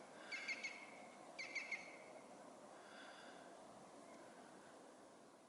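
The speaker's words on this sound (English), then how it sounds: "That's a woodpecker." A woodpecker calls twice in quick rapid bursts of repeated notes, then a fainter third call, over a steady rushing background of a fast-flowing river.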